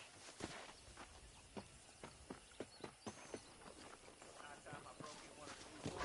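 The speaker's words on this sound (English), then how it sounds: "Okay, let's see if you can still ride a horse." Horse hooves clip-clop at a steady walking rhythm during riding in the Western video game Red Dead Redemption, distinct near thuds over a low ambient background, with a voice briefly heard at the start.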